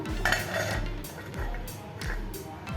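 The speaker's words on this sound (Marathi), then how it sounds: "चांगलं मिक्स केल्यानंतर झाकण ठेवायचं आहे झाकण ठेवूया" Metal lid clatters onto a cooking pan holding a simmering vegetable masala, a few clinks and knocks in a row, close and moderately loud.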